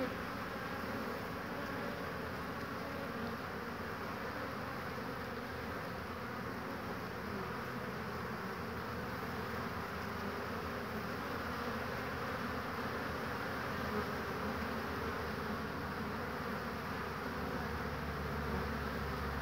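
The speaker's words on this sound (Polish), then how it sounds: "wierzby nektarują bo widać, że pszczoły bardzo, bardzo intensywnie latają" Many honeybees buzz continuously in flight around nectar-bearing willows, a dense, steady drone that stays even throughout with no voices.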